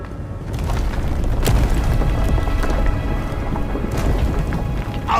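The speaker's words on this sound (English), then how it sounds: "That was a damn big explosion, wasn't it?" A big explosion in the video game Avowed bursts out as a heavy booming rumble, followed by a sustained crackling roar that fills the scene at high loudness.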